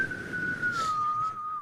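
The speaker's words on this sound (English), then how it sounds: "I failed to whistle. Let me try again." One person whistles a single sustained tone that holds steady and slides slightly downward over about a second and a half, quiet and close, with no other sound.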